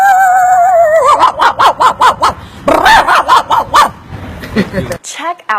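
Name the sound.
man imitating a dog barking with his mouth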